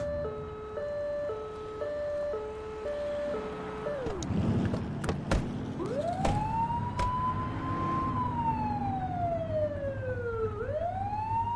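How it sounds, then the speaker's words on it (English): A police car siren in the video game The Precinct wails nearby, shifting from a two-tone hi-lo pattern to long rising and falling sweeps, with engine noise and a few clunks. "Turn that siren off."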